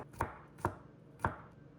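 An onion sliced on a board, three distinct knife thunks spaced unevenly, close and fairly quiet against a hushed room.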